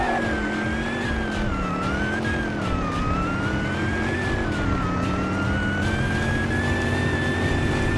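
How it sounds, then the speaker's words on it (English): In the Roblox game Car Driving Indonesia, the engine of an E-class car revs in neutral with a steady, loud, slightly wavering drone that holds throughout and carries no voices. "stay on neutral and rev it up"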